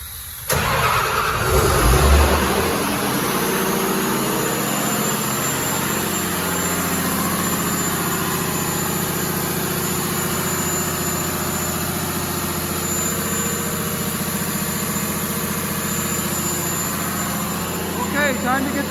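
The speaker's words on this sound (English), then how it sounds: "So to start this fire pump, get ready because it's loud." A diesel fire pump engine cranks and catches during a weekly test run, then settles into a loud, steady roar with a high whine on top, continuing unbroken while people talk over it.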